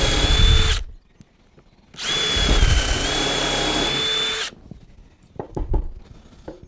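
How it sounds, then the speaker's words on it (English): Power drill boring two pilot holes in timber, two sharp whining bursts, a short one followed by a longer steady one, close and loud, then quiet handling knocks. "I'm going to drill 2 pilot holes."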